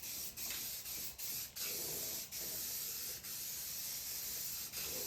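Steady hissing spray paint coats wooden arcade game cabinet parts for Robotron and Sinistar, a continuous close spray broken by brief pauses between passes.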